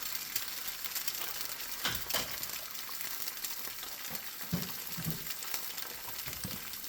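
Steady crackling sizzle of eggs frying in a hot pan, close up, with occasional soft scrapes and bubbling bursts.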